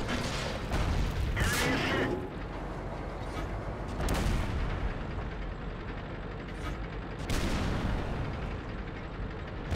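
Tank cannons fire in World of Tanks while a T-50-2 scout is shot and tracked, with several heavy booms near the start, middle and later amid continuous engine rumble and mechanical clatter.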